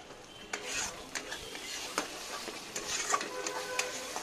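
Fish curry masala frying slowly in oil, a soft sizzle under repeated spoon scrapes and light metallic taps against the pan.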